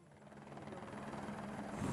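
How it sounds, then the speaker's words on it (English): A search and rescue helicopter arrives amid British Columbia weather, its steady rotor thrum loud and close and building slightly as it comes in. "Our final chopper, Air 8, has just come in with our last subjects"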